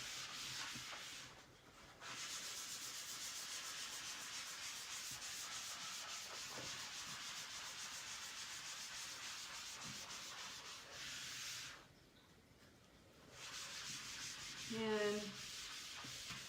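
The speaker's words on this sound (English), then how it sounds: "And then flip it over, find another area of the board eraser to use, and buff in circles." A board eraser buffs a damp chalkboard surface in circles, giving a steady, close rubbing hiss that pauses briefly twice, with a single short spoken word.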